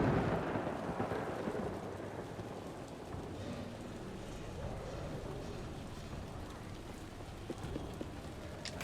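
Steady rain with low rolling thunder fills a stormy scene in the video game Little Nightmares III, a dense continuous wash that is loudest in the opening seconds, then settles into an even patter with no speech.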